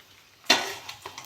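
Paratha frying in a pan, a quiet background that suddenly breaks into a sharp sizzling burst, then trails off with a couple of softer crackles, close and alone without talk.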